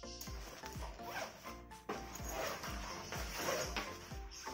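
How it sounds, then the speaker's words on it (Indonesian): A YKK coil zipper on a backpack is pulled back and forth several times, giving close, rhythmic rasping zips with brief pauses between strokes. "Yang kami pakai di sini adalah resleting coil. Dan kami menggunakan YKK."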